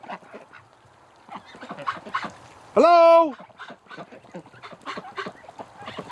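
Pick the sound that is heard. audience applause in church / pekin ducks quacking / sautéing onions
pekin ducks quacking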